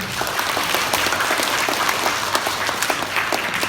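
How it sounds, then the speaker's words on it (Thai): Steady applause from an audience of elderly people welcoming a Channel 7 lead actor at a food-giving event, dense clapping that stays loud and even throughout with no talk. "ขอเสียงปรบมือด้วยนะคะ"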